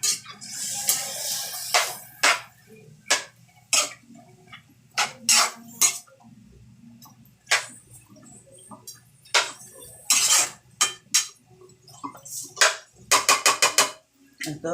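Metal spoon scraping and clinking against a cooking pot in scattered, uneven strokes, with quiet pauses in between and faint background noise under it.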